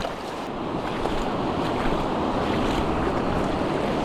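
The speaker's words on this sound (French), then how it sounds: "Regardez la vague jusqu'où elle a été, jusqu'à mon sac." Ocean waves wash up a beach in Brittany during a surfcasting outing, a steady broad roar of surf and water close by, with wind buffeting the microphone throughout and no voices.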